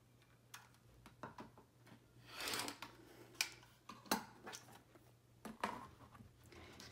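Scissors snipping through a stiff fabric stabilizer for a sewing project, a series of quiet close crisp cuts and rustles in an irregular rhythm, with a longer swish partway through.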